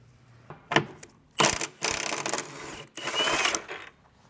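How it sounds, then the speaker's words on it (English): A ratchet with a 21 mm socket undoes a control arm bolt on a 1999–2005 Porsche 996 Carrera. Several close bursts of rapid clicking come in uneven spurts, separated by short pauses. "I'm going to take a 21 millimeter socket and undo this bolt here"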